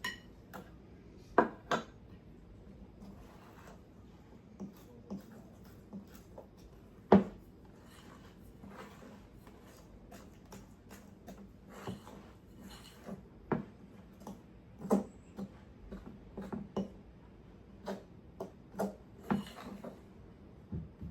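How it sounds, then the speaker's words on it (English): Raisin bun dough ingredients, including a cracked egg, are stirred together in a bowl, giving scattered soft clinks and scrapes of utensil against the bowl at an uneven pace, fairly quiet and close, with no talking. "now you're going to stir this all together until a dough forms."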